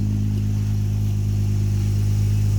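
A Jeep Gladiator fitted with a MagnaFlow Street Series exhaust idles loudly and close, a steady deep rumbling drone without pauses.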